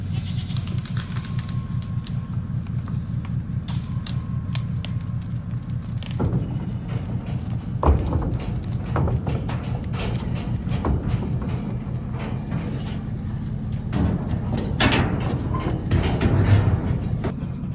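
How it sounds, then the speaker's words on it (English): Spanish billy goats bleat repeatedly amid clattering, thumping hooves on a hollow trailer floor, with scattered knocks and shuffling throughout. "We're using the trailer this time to load the billy goats up."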